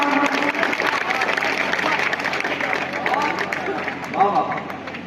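Poetry-reading audience at a kavi sammelan clapping: a broad, continuous wash of applause and crowd noise filling the whole stretch, with some voices and chatter mixed in.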